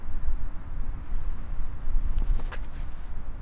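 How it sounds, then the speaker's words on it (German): Strong gusty wind roars across the microphone on an outdoor disc golf course, a dense rumbling wash that holds steady throughout with no voices. "wenn von der Seite von links der Wind so ballert wie jetzt"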